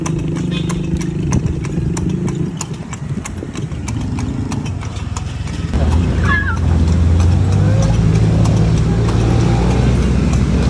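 Horse hooves clip-clop steadily at a walking pace on the streets of Intramuros, with a horse-drawn carriage setting and traffic hum around, and people chatting intermittently over the rhythmic hoofbeats.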